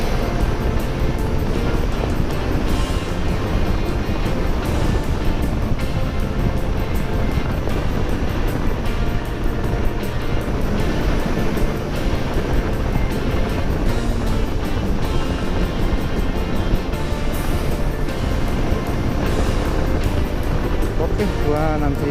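Manual-clutch motorcycle riding at night on the road to Puncak, a loud steady engine roar mixed with rushing wind noise throughout, with a rider talking over it.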